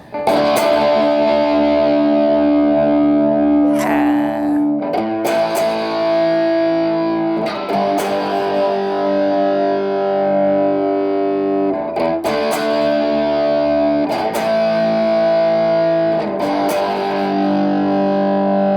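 Electric guitar plays loud distorted chords and riffs through an Orange Super Crush 100 solid-state head and PPC212C 2x12 cab, continuous with short pauses and picked accents, no voices.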